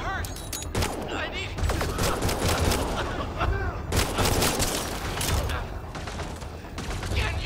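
Gunfire in the video game Mass Effect: Andromeda: loud, chaotic volleys of shots and mechanical clatter during a firefight, mixed with shouting voices.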